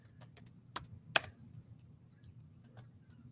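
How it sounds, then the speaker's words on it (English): Keys on a computer keyboard are tapped in a few quick, sharp clicks near the start, followed by sparse single taps over a low background hum, with no talking. "Oh, Salakia, I'm typing in the wrong thing."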